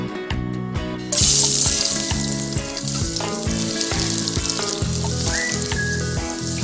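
After a few rhythmic music beats, a loud sizzle of garlic hitting hot oil bursts in and keeps crackling under the ongoing background music.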